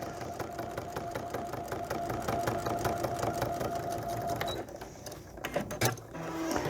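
A sewing machine hums steadily while stitching small pieces of quilt fabric for a cat quilt block, then stops and gives way to a few handling clatters before resuming faintly.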